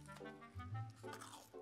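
A bite into a crunchy croissant, a short crackle of flaky pastry followed by soft chewing, close and quiet.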